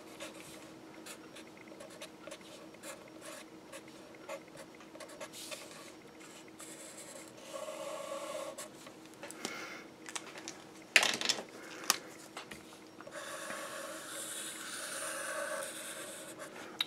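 Writing strokes on a board during a physics lecture, a steady run of close scratchy marks with a brief sharper knock partway through and no talking.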